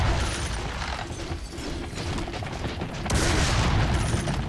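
Rockets in Serious Sam 3 detonate amid a steady, rumbling barrage of booms and mechanical clatter, loud throughout and swelling harder near the end.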